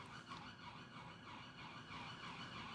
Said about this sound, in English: I can hear there's a siren and I feel like it's going to come past in a second.